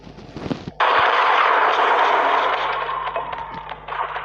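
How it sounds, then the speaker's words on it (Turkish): A powerful firecracker bomb going off outdoors near a cooking spot, one sudden loud blast followed by a long crackling, rushing burn that slowly fades, with no voices. "bomba bayağı güçlü"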